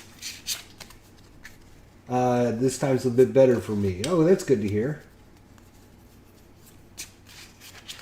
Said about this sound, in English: What I'm doing here is just shuffling up the mission deck as we talk